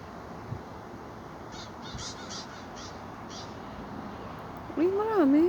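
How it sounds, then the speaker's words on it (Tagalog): Seagulls stopping over at a school park call in a short cluster of faint, distant cries against a quiet outdoor hum, then a nearby voice rises briefly toward the end. "Daming nag-stop over ng mga ibon, mga seagulls."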